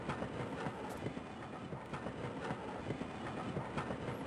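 A monorail roller coaster from the video game Half-Life runs steadily along its track, giving a continuous rolling rumble with rhythmic clickety-clack wheel beats throughout, fairly quiet and with no voices.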